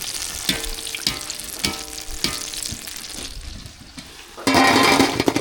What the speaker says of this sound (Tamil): கத்திரிக்காய் வந்து எண்ணெயிலே நல்லா பொரிஞ்சிருச்சு